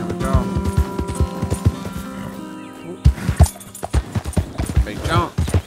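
Horse hooves clip-clop at a gallop in a video game, a quick repeated rhythm that carries on under someone talking throughout.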